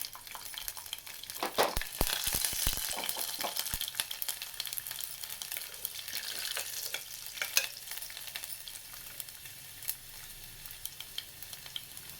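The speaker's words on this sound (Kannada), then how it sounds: "ಬಟ್ಟಲಲ್ಲಿ ಎಣ್ಣೆ 1 ಸ್ಪೂನ್ ಹಾಕಿ 1 ಸ್ಪೂನ್ ಸಾಸಿವೆ, 1 ಗೆಡ್ಡೆ ಬೆಳ್ಳುಳ್ಳಿ" Mustard seeds and garlic sizzling and crackling in a spoonful of hot oil in a small pan, with scattered popping bursts over a steady soft fry, close and fairly quiet.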